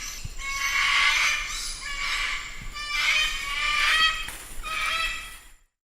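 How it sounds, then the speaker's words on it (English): Cockatoo calling: a few long, harsh, raspy screeches in succession over noisy background rumble, loud and close, with no speech. "Cockatoo."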